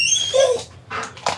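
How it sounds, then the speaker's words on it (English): A sheriff's office police dog whining and yelping at a close distance, with high-pitched whimpers followed by a couple of short sharp barks. "Sheriff's office with the canine. If you do not listen to my commands, you're gonna get bit by my dogs."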